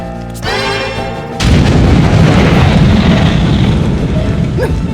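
Fire spells from Bravely Default explode in a rumbling, roaring burst that sets off loudly and sustains with crackling, dense noise, following a brief musical tone.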